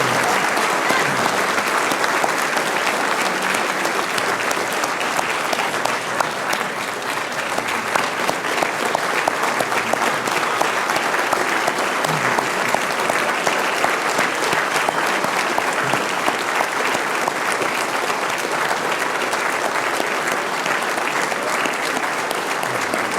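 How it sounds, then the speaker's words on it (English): A large audience at an anniversary gala applauds continuously, a thick, even roar of clapping that keeps going for over twenty seconds without pause or speech. "Please join me in a round of applause for John Lenczowski."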